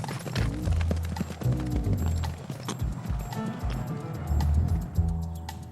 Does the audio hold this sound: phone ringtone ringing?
no